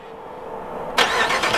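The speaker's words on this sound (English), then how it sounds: "Cold startup, 2020 Gladiator Hellcat." The engine of a 2020 Jeep Gladiator Hellcat cold-starts suddenly about a second in after a quiet hum, then roars loudly into a rich, rising idle close by, with no talking.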